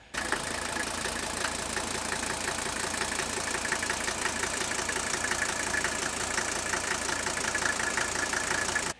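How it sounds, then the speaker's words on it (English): An old diesel car engine idling on a mix of diesel and vegetable oil, a steady even clatter with a fine rhythmic knock running continuously at moderate level and nothing else over it. "Let me show you Jerson's engine running. Just listen to how smooth that is."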